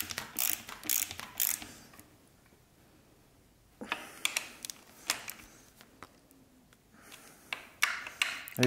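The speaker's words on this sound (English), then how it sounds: "just tighten it up with a 10mm." A ratchet with a 10mm socket tightens the lower bolt of a steering damper on a Honda CRF, giving short bursts of quick clicking that come and go with pauses between.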